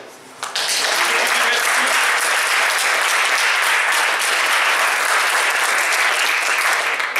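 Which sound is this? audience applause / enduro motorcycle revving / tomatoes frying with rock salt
audience applause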